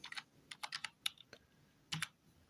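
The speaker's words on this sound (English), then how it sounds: "We'll want to type in to get onto our website" Computer keyboard typing in short irregular bursts of crisp clicks, about a dozen keystrokes in quick clusters with brief pauses, close and clear in a quiet room.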